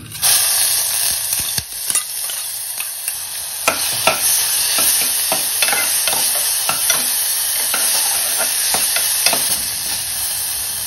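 Onion and garlic paste sautéing with whole spices in a pan, a loud continuous close sizzle broken by repeated sharp scrapes of a spoon stirring, no one talking.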